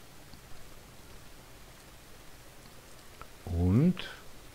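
Rain falls in the farming game Farmer's Dynasty, a soft, steady hiss held low and even throughout. A voice briefly speaks over it near the end.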